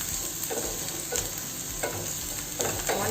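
Onions frying in a pan until golden brown for chicken keema curry, a soft continuous sizzle broken by a few light stirring scrapes, close and quiet with no talk.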